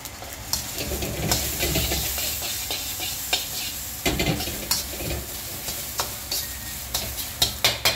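Shrimp fried rice with peas being tossed and stirred in a hot wok, a loud hissing sizzle under repeated scraping strokes and sharp clacks of the spatula against the metal, no talking.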